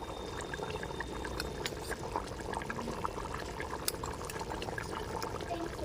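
Natukodi chicken curry boiling in a pot, a quiet and continuous bubbling simmer with scattered small pops and crackles, and no talk.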